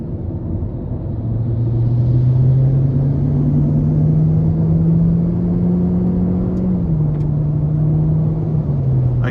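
A 2024 Hyundai Elantra SEL with a naturally aspirated 2.0-liter four-cylinder and IVT pulls hard from inside the cabin, its engine drone climbing smoothly in pitch, holding, then easing slightly, loud over road rumble.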